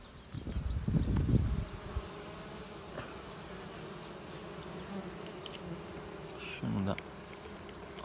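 Honeybees buzzing around an opened hive fitted with pollen traps, a constant close hum with louder passes as bees fly near, plus light handling knocks.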